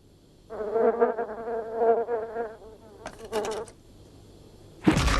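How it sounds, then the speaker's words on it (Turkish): Cartoon buzzing of a swarm of flies around a wounded, locked-up character, droning in wavering bursts for several seconds, then a short, sharper burst and a sudden noise at the end. "Ellerimi sürekli kalkıp konan sinek sürülerinden açık yaralarımı korumak için sallayıp duruyorum"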